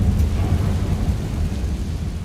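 Confringo blasting spell cast in Hogwarts Legacy, a dense low booming rumble that rolls on heavily for a couple of seconds with a rain-like hiss above it.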